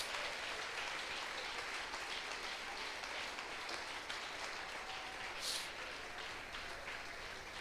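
A church congregation applauds during a sermon, a soft, steady wash of clapping heard from a distance without a break.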